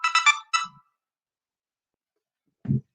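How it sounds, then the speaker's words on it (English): A mobile phone ringtone sounds loudly in short bursts: three quick high chirps, a pause, then one more burst, followed by silence and a single low thump near the end. "I turned my phone down and it's still super loud"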